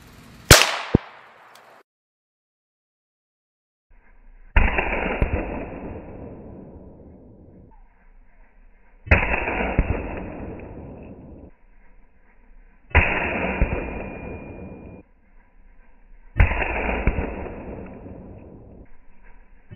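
Five sharp .17 HMR rifle cracks ring out at spaced intervals outdoors, each a loud close report with a short decaying echo, fired at clay blocks with no talk between shots.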